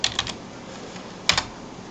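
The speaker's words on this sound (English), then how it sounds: "let's type it" Two short bursts of clicky keystrokes on a computer keyboard, fairly close, with a quiet pause between them.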